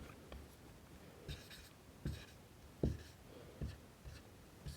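A maths solution being written out by hand, with pen strokes that come as faint, close scratches and taps at irregular intervals against a quiet background.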